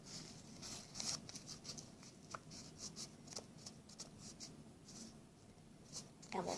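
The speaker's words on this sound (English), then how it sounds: "So we're going to fold down the front." A sheet of paper being folded down at the front while making a paper cup, soft rustling and crinkling with small crisp scrapes, close and quiet, without talk.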